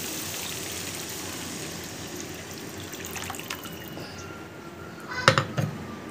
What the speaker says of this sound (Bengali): জলটা আমি অ্যাড করব।